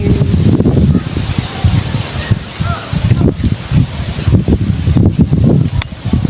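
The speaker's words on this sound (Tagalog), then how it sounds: "Hangin, mahangin na hapon." Loud, gusty wind buffets the microphone in rough surges, with a faint voice now and then underneath.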